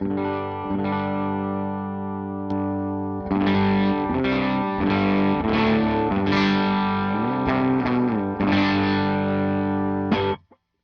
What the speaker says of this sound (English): it boosts my volume about maybe 2 to 3 decibels above what it is initially